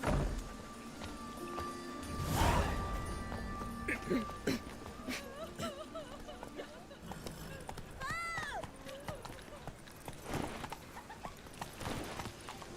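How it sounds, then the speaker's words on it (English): A horse gallops in The Witcher 3, its hooves clip-clopping in a quick rhythm under game music and clearly heard talk, with a neigh-like cry partway through. "o cavalo tá sem controle"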